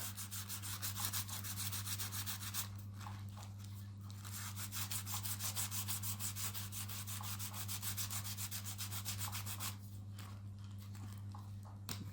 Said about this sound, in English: I'm just using a bit of sandpaper to rub around the edge.